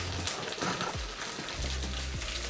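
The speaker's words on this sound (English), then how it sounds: "I'll add onions to it." Chopped onions frying in a pan for a Ghanaian Ewe abobi tadzi, a steady close sizzle and crackle with a few brief stirring scrapes and low knocks on the cookware.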